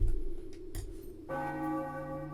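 A deep church-style bell in Final Fantasy IX strikes once with a bright metallic clang and a long ringing decay, following a few softer muffled thumps.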